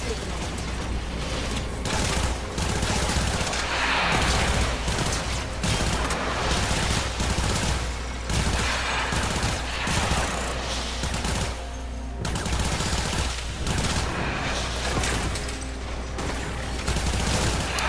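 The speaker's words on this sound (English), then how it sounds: "I modded my machine gun so its bullets can shoot through enemies" Sustained, dense automatic gunfire from a modded machine gun in the shooter game Warframe, with overlapping bursts and booms running continuously and loudly throughout.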